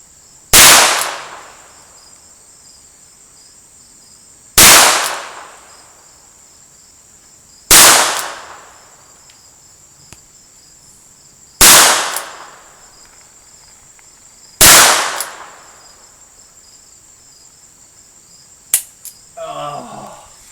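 A Taurus Tracker Model 990 .22lr revolver fires five sharp, evenly spaced shots at a range, each a loud crack with a short ringing tail over a constant high-pitched hum, followed by faint clicks.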